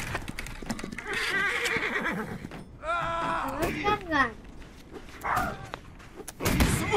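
Horses neigh and whinny in the Holdfast battle game, two long drawn-out calls standing out among hoof clatter, battle noise and excited talk.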